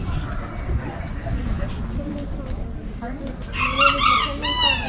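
A Belgian bearded bantam rooster crows near the end, a high, rising cry that follows a stretch of a person talking close by.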